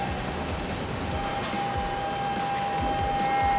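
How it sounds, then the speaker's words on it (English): A CNC lathe unloading a finished component with its parts unloader: a steady, loud machine drone with a sustained tone running throughout, no talk. "It's now unloading with the parts unloader"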